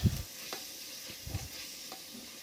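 Tomatoes for a Rowther-style rice biryani fry in a pan with a steady low sizzle, broken by a few scattered scrapes of a spoon through the mixture.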